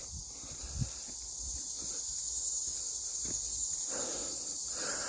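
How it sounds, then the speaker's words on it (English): Cicadas call in the woods as a steady, faint high-pitched buzz running through the whole stretch, with a few soft footsteps and thuds underneath. "it could just be one cicada."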